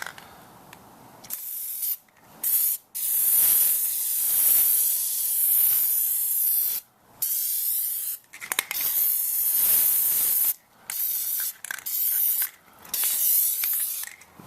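Plasti Dip aerosol sprayed in thin coats onto a Toyota Tundra grill: a series of loud, hissing bursts of varying length, separated by short silent pauses.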